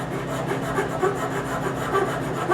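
Wood rasp filing a cabriolet leg knee block, a close rhythmic rough scraping of repeated strokes back and forth, with no talking.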